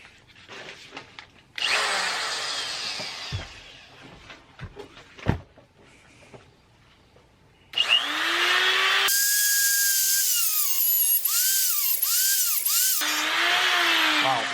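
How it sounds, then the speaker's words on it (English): A cutting wheel whines in long, high-pitched bursts as it grinds through a thick battery cable clamped in a vise in a garage, the pitch dropping and wavering where the disc bogs down, with short quiet pauses and clunks between passes. "We're gonna use good old Mr. Cutting Wheel."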